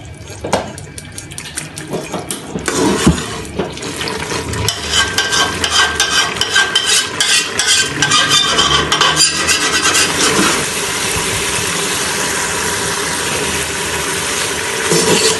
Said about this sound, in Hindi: अच्छी तरह मैंने पालक को भून लिया है।